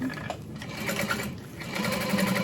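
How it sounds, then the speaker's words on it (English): A sewing machine top stitching through a fabric panel runs in a steady, close mechanical whir of rapid needle strokes, slowing slightly and then picking up again. "So top stitching through the top panel"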